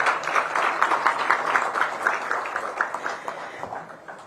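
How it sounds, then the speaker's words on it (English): Applause from a formal ceremony audience for a government minister at a car safety program launch, steady dense clapping at moderate level that gradually thins toward the end, with no voices over it. "may I request for another applause for the Honorable Minister,"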